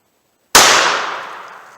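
A single loud gunshot from a .38 Special revolver with a 4-inch barrel firing 170 grain lead semi-wadcutter handloads, a sharp crack after silence followed by a long decaying outdoor echo.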